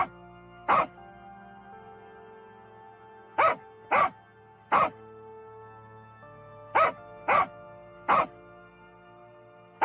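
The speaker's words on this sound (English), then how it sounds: "A dog says, woof, woof." A dog barks seven times in short, sharp single barks spread over several seconds, the barks loud and close with quiet between them.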